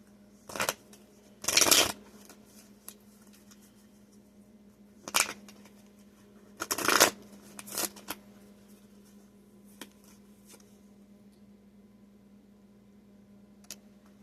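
Tarot cards shuffled in a few quick, crisp bursts, separated by long near-silent gaps and a faint steady hum, close and moderately loud, with no voices.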